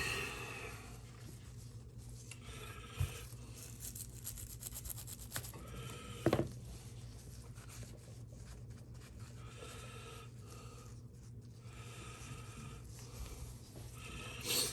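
Steady, quiet scrubbing and rasping as gunk is cleaned from field-stripped Gen 3 Glock 19 pistol parts, a continuous brushing texture with a couple of brief louder knocks partway through.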